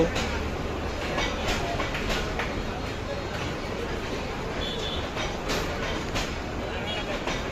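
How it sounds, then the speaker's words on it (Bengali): A long, crowded train rolls steadily past at Sreepur Railway Station in Bangladesh, with a continuous rumbling clatter of wagons throughout and people talking nearby. "এখনো কিন্তু যাচ্ছে ট্রেন"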